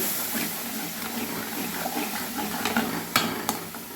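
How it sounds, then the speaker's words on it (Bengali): Spice paste with yogurt being sautéed for a hilsa fish curry with black cumin, a continuous low sizzle with faint stirring scrapes and a couple of sharp clinks near the end. "ওই বানানো মশলাটা আমি দিয়েছি দিয়ে দিচ্ছি খানিকক্ষণ কষিয়ে নেব"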